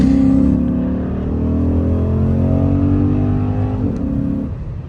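A Chrysler 300 SRT8 engine revs hard through an acceleration pull, a loud close rising drone with climbing harmonics that eases off and then winds up again before fading near the end.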